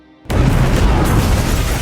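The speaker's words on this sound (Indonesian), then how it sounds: "setelah ledakan tersebut" A sudden loud explosion in an action film bursts in after a brief quiet lead-in, then rumbles on as a sustained, heavy roar of debris and fire.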